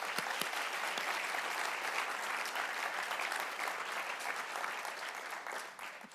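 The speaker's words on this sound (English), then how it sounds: "I think they deserve a round of applause as well" An audience at the Bellevue Essentials 10th anniversary celebration gives a dense, continuous round of applause for the presenters, many hands clapping together and slowly tapering near the end.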